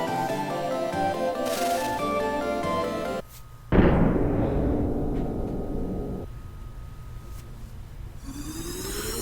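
A booming cannon blast in the video game Secret of Mana bursts out after a short gap, its rumble trailing off beneath steady electronic game music that runs throughout.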